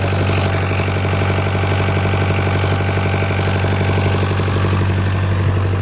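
A forklift engine, recently revived after fire damage, idles close by with a steady, throbbing low rumble and a faint rhythmic knock, continuous throughout without any talking.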